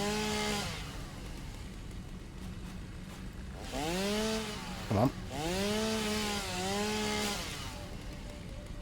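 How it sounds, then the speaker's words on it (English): A chainsaw cuts trees in the video game Satisfactory, its engine revving up and down in several pitched bursts with a sharp spike mid-way, while someone speaks briefly over it. "we're having some problems here with the old chainsaw, I think"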